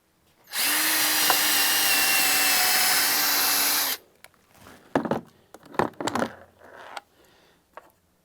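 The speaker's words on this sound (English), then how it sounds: "you will drill a pilot hole" Power drill boring a pilot hole for a wood screw in a board of a DIY wheelchair ramp kit, a steady whirring run of about three seconds, followed by scattered knocks and handling clatter of wood.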